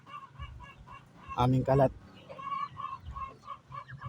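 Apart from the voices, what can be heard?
duck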